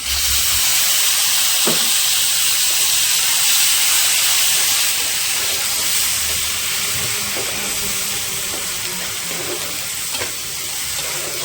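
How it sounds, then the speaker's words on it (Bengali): Raw onion paste sizzles loudly in hot oil, a steady dense hiss with steam and some stirring scrapes throughout, close and continuous. "এবার আমি দিয়ে দেবো এখানে বেটে রাখা কাঁচা পেঁয়াজ।"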